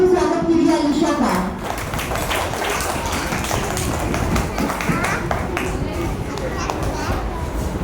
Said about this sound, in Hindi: जोरदार तालियों से स्वागत कीजिए अलीशा का